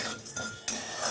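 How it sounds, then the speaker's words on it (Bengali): Cardamom, cinnamon and a little salt are stirred in a pan, giving a brief, soft series of metallic scrapes and clinks, quiet and alone. "এইভাবে নাড়তে থাকবো যতক্ষণ না ভালো একটা গন্ধ আসে।"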